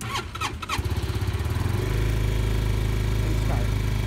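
An Amigo Motorsports Huracan 300 engine cranks with a few quick pulses, catches and settles into a steady, close-up rumbling idle that runs alone to the end.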